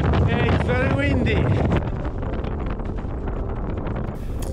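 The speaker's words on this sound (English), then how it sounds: "Hey, it's very windy." Strong wind gusts buffet across a snowy ridge in the Swiss Alps in winter, a loud close roar with microphone rumble, heaviest in the first seconds and then easing to a steadier blustery hiss.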